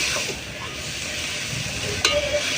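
Boiled cabbage and potato are stirred in hot oil in a wok, producing a steady sizzle with soft scraping and a brief sharp clink near the end.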